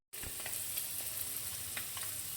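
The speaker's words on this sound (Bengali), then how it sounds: "আমি বাটার দিয়ে আমি এখানে পনিরগুলোকে ভাজবো" Paneer pieces sizzle in hot butter in a kadhai, a sudden onset of dense, steady frying crackle with small pops, close and loud, no talk.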